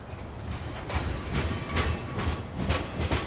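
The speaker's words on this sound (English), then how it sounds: "We can make the train run." A train rolls along in Farming Simulator 15, a steady rumbling roar with rhythmic clacking pulses from the wheels, loud and continuous with no voices over it.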